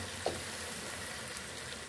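Okra (bhindi) sizzles in a pan during Pakistani-style bhindi qorma cooking, a brief, steady broadband hiss with one soft clink near the start, heard alone.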